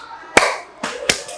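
A class of pupils clap together in a rhythm clapping game, with a single sharp group clap followed by a quicker cluster of about three claps, loud and close in a classroom.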